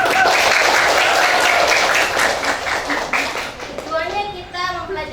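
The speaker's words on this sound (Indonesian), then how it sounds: "Oke, tepuk tangan dulu." A classroom of students claps hands together in brisk, loud applause that tapers off after a few seconds, giving way to children's voices talking.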